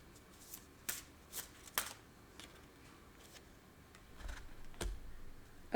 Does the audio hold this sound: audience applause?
no